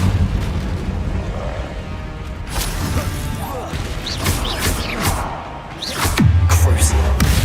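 The Incendio fire spell cast in Hogwarts Legacy, a series of whooshing bursts and booming blasts that swell and crack over several seconds, loud and dense with swept magical tones.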